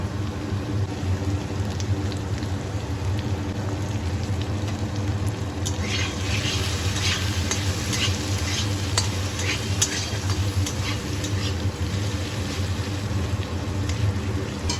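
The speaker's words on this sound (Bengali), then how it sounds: "আলুর টুকরোগুলো সামান্য লবণ ও হলুদ গুঁড়ো দিয়ে ভালোভাবে নেড়েচেড়ে লাল লাল করে ভেজে নেব" Potato pieces with salt and turmeric fry in oil with a steady close sizzle, brightening into a denser crackling spatter partway through as they are stirred around the pan.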